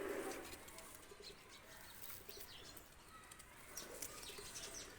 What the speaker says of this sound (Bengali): দুটা কবুতর আমি ছেড়ে দেখাচ্ছি দেখেন